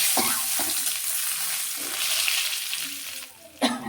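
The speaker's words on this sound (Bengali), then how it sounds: "শুকনো লঙ্কা আর পাঁচফোড়ন ফোড়ন দিয়ে দিলাম তো বন্ধুরা একটু থেতো করে আমি আদাও দিয়ে দিলাম" Dried red chilies, panch phoron and crushed ginger crackle and sizzle in hot oil, with a few sharp scrapes of a spatula against the pan near the start and end. Nobody talks.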